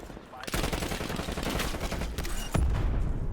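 C58 rifle fire in Call of Duty Cold War: rapid, dense bursts of automatic gunfire, loud and close, with a heavier shot near the end.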